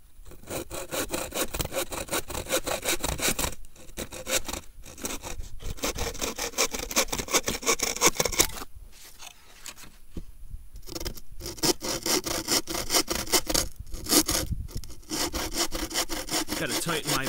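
A hand saw blade cuts firewood at a bushcraft lean-to camp: close, rasping back-and-forth strokes in a steady rhythm, broken by a few short pauses before the sawing resumes.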